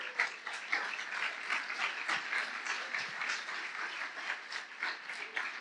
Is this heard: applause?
yes